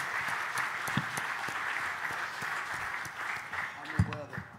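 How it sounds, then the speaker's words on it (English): Clapping from a live audience at a watch-customization debate, a moderate sustained patter with a few louder close claps standing out, and brief voices near the end. "Let's give him a round of applause."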